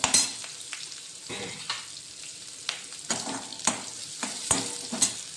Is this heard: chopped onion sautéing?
yes